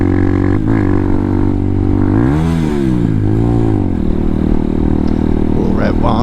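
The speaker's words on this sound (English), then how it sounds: "Little rev bomb." A motorcycle engine, either an MT07 or a CBR600rr, idles loudly close by and revs up twice with rising and falling pitch, while a voice talks over it.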